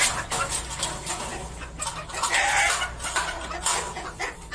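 Chickens cluck intermittently against a steady outdoor background hum, with several short bursts of calls spread across the clip.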